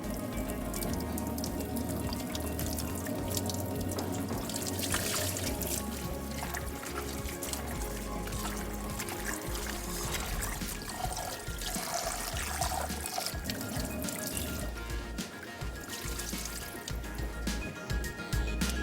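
Running tap water rinsing salted bitter gourd in a sink, a constant rushing splash with clattering of the vegetable pieces, loud and close, lasting the whole stretch without talking.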